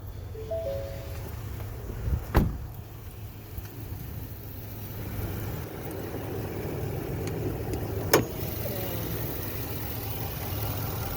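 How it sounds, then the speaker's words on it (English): A 2018 Ford F-250 extended-cab pickup idles steadily under an open hood, a low, even engine hum throughout with two brief sharp knocks or clicks near the start and the end; no talking. "This is a real smooth running truck. It runs and drives beautifully."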